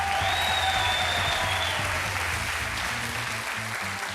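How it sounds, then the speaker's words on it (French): A France's Got Talent audition audience claps loudly and steadily for several seconds, a dense wall of applause with music playing underneath. "Merci d'accueillir un tonnerre d'applaudissements à David Stone."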